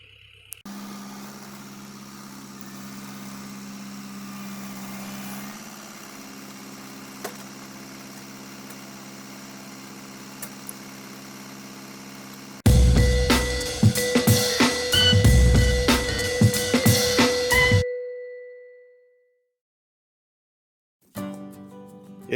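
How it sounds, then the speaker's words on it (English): A Mahindra 2638 tractor engine, first idling at a steady low hum, then revving loud and rough near a stump before cutting out abruptly, followed by silence and a brief restart of noise. "I'm going to bring the tractor over and let's see if we can't get this thing wiggling a little bit"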